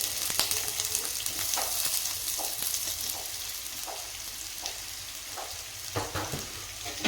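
Two to three sliced onions frying in oil with curry leaves in a pan, producing a loud continuous sizzle broken by repeated soft scraping stirs.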